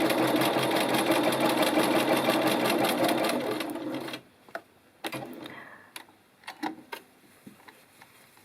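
A sewing machine stitches an invisible zipper tape in a steady, rapid run for about four seconds, then stops; a few soft clicks and handling taps follow in near quiet.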